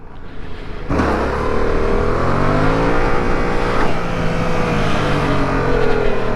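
A Yamaha MT-07 motorcycle cuts in loudly with an engine roar and rides on steadily, the revs rising and falling in a continuous close-up drone under wind rush.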